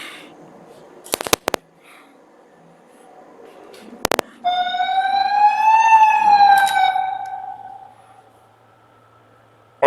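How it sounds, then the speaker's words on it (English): An alarm aboard a shuttle tanker sounds after a ship door is left not properly closed: a loud, rising-and-falling wailing tone lasting several seconds, preceded by sharp door clicks and bangs. "So if I didn't close the door properly, it triggers an alarm."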